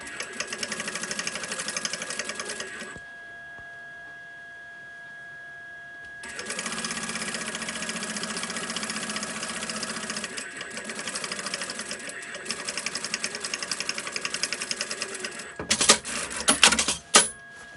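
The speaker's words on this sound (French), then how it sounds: "Et ensuite, on va coudre le fond du sac." A sewing machine stitches the bottom of a quilted crossbody bag with a rapid, steady mechanical whirr in two long runs separated by a pause, ending with a few short bursts and clicks.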